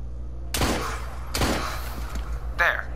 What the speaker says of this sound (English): I'm just gonna kill him normally with a gunshot